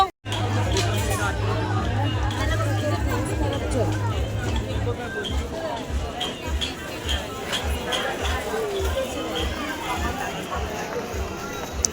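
A busy Saturday market crowd in Mahabaleshwar, a dense babble of many voices with footsteps and chatter all around, steady and close throughout.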